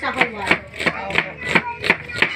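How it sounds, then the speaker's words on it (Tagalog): A knife chops onion and garlic on a board in steady, evenly spaced strikes, about seven crisp close cuts with no talk. "Naghihiwa ng sibuyas."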